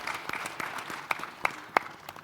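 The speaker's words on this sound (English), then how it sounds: "A round of applause for him" A conference audience at the IMF-World Bank Annual Meetings claps for a panelist, sparse and uneven, with a few sharp, close individual claps standing out.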